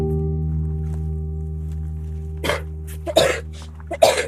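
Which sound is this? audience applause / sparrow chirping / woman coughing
woman coughing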